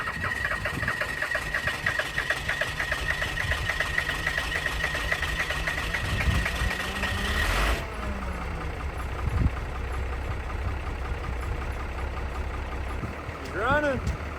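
A Cummins diesel engine cranks, then settles into rough, uneven running, the loud clattering drone continuing steadily close by with brief mechanical knocks.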